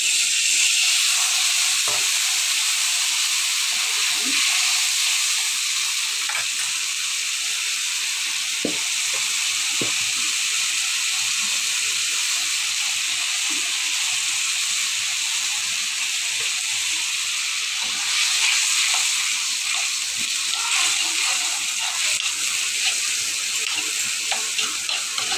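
Steady sizzling hiss of a hot pan of fish and potato curry after water goes in, loud and continuous with faint stirring clicks throughout and no talk.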